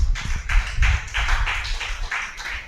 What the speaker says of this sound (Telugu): బిగ్గరగా చప్పట్లో